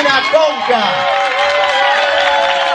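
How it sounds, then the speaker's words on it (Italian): An audience cheers and applauds a theatre teacher at the final show of a summer theatre course, a loud, continuous crowd roar with rising whoops and voices close by. "un grandissimo applauso alla nostra Cristina Conca"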